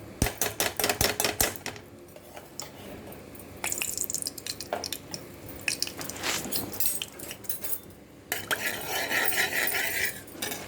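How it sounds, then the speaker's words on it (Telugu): Oil and ghee stirred together in a pressure cooker, with quick clattering taps of a spoon against metal at first, then wet swishing, stirring and scraping sounds at moderate loudness. "కొంచెం ఆయిల్ వేసుకున్నాను, కొంచెం నెయ్యి కూడా వేస్తాను, రెండు మిక్స్ చేస్తాను."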